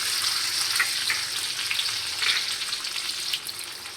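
Cashews and raisins frying in ghee in a wok, a continuous bright crackling sizzle up close with no voices.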